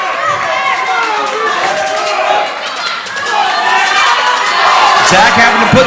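A crowd at a CrossFit event cheers an athlete on, with steady shouting and chatter forming a dense, continuous wash of voices that swells slightly near the end.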